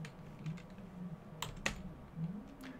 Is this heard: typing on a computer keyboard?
yes